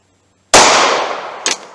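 Single 9mm +P Hornady Critical Duty pistol shot fired over a chronograph about six yards away, a sharp, loud crack with a short decaying tail and a faint clink just after.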